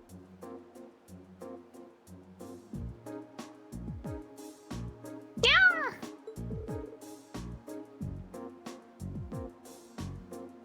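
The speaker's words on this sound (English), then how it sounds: "What's a kitten doing here?" A kitten meows repeatedly in short, clear cries, with one louder, rising wail in the middle, close and alone without talk.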